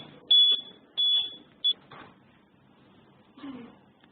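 Buzzer alarm of a gait-monitoring device for elderly patients sounds three sharp high electronic beeps, two longer then one short, followed by quieter faint noises.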